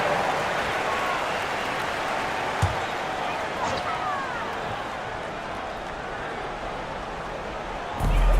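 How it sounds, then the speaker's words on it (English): Arena crowd applause during a timeout at an NBA basketball game featuring the Magic, a broad, steady roar of clapping and cheering held at an even level, with a faint thump partway through. "Big round of applause for the 407."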